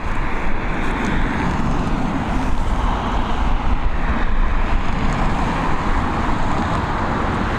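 An Emirates airliner departs Dublin Airport with a steady, loud jet roar that stays broad and constant throughout, with no voices over it.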